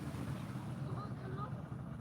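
Two slow-moving boats on the water give off a low, steady engine drone, heard at a distance under wind and faint voices.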